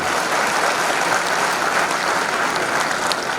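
An audience claps steadily and densely throughout, welcoming two officials onto the stage at an agriculture department gathering; the applause is sustained and even, with no voices standing out.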